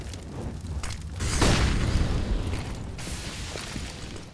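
Grenade blasts and utility bursts on Dust2 in a CS:GO match, a muffled booming impact swelling at mid-clip over rattly background game noise, moderately loud with no speech.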